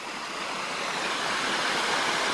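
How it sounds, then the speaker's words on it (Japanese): Cold river stream tumbling over a small waterfall at a forest campground, a steady broadband rush of splashing water that stays close and loud throughout, with no voices. "ちょっとした滝っぽいところも作ってありますね。"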